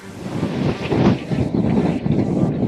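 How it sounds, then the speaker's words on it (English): Strong, steady wind on the front deck of a cruise ship buffets the microphone, a loud continuous low roar with gusting swells and no voices. "Oh my goodness, it's windy up here at the front."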